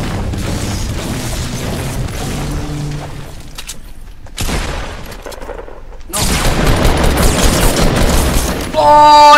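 Pump shotgun blasts in Fortnite, loud sharp booms spaced between mechanical pumping sounds and other battle noise, with a voice talking over the action.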